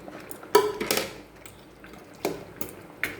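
Fish heads tumble into a pot of half-cooked rice khichuri, giving a few close, sharp splashing clatters with brief bursts of wet kitchen noise between quieter gaps.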